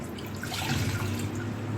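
A cup of water is poured for vanilla coconut tea, producing a brief, close, steady trickling splash with no talking.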